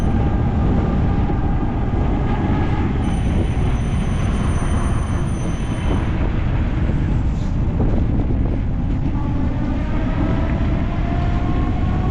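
Strong wind roars steadily across the microphone during a city bike ride, a loud continuous rush with a low rumbling drone underneath and no talking.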